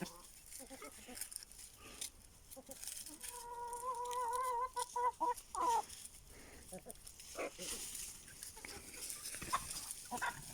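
Chickens and a rooster clucking and calling on a farm, including Aseel breed fowl, with several bursts of clucks and a drawn-out crow-like call, while a person talks quietly.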